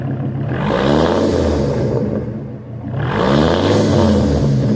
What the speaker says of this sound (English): There's a V10 for you. That's a pretty sound.